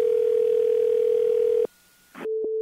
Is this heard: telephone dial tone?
yes